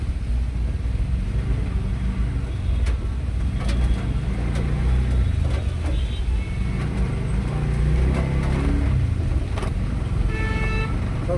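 Steady rumble of heavy traffic jammed on a rain-flooded main road in Pune, with engines idling and creeping and a few horn toots poking through near the end.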